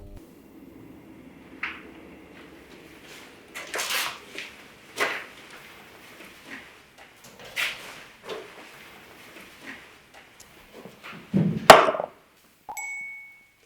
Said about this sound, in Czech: někdo Puelovi píše na mobil